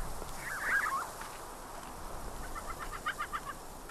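Chickens cluck in the video game Syberia 2, two faint clusters of short bird calls over a low ambient game background, with no talk.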